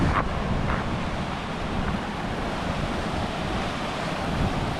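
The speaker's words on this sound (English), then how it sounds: "I just wanted to have a little look at the waterfall down this end and see how it's looking" Running water from a waterfall on Dartmoor near Meldon, a constant broadband rush heard outdoors with gusty wind buffeting the microphone, steady and fairly loud throughout with no talking.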